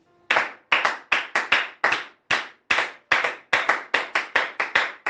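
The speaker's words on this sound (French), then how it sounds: "Pour nous acclamer pour Dieu" A church audience claps loudly in unison to acclaim God, about seventeen sharp claps at a fairly regular, slightly uneven rhythm, with no talk.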